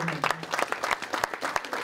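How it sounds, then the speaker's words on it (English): Crowd applause at a white-collar MMA charity fight night: a dense, steady burst of clapping from many hands, with a brief voice near the start. "A massive round of applause. Give a round of applause."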